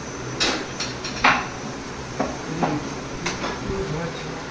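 Metal tava griddle set down and handled in a home kitchen while making chapati, a few separate clanks and knocks spread across a few seconds over low room noise.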